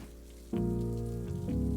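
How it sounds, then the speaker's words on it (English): Steady rain falls in the game Necrobarista, a dense continuous wash under a sustained musical drone, with no one talking. "Oh, dude, look at all this rain."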